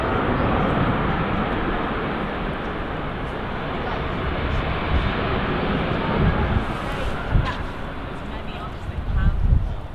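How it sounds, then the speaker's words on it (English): A Ryanair jet airliner arriving at Manchester Airport, a continuous broad roar that stays fairly steady with a few gusty bumps near the end, voices occasionally present. "Another Ryanair arriving."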